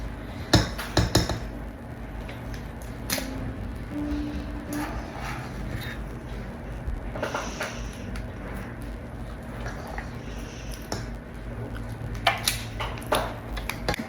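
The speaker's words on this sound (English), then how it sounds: "I'm using an ice cream scooper to scoop out each little muffin onto my pan that's already been sprayed" An ice cream scooper scooping muffin batter onto a sprayed pan, with repeated metallic clinks and taps against the pan in irregular clusters, close and fairly sharp.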